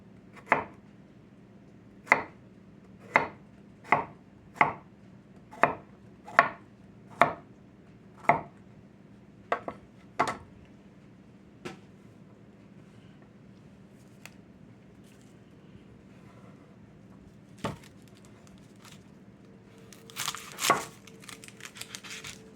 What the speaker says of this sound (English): I think I'm going to just cut out little pieces like this.